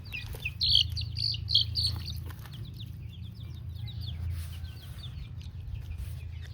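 Chickens and their young chicks make bright, repeated chirps and soft clucks up close over a low, constant background hum.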